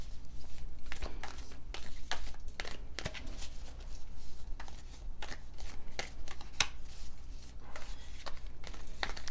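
Shuffling a deck of Wild Unknown Archetype tarot cards, a close, continuous riffle and slide of cards with repeated soft slaps, steady over a low background hum, with no talking.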